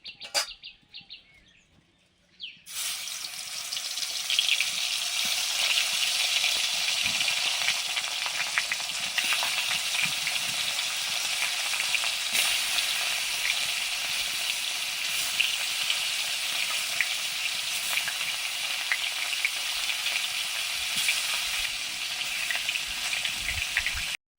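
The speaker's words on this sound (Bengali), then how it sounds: "এবারে শোল মাছ ভাজবো।" Snakehead fish fries loudly in oil after a short quiet start, a dense, continuous crackling sizzle that holds steady to the end.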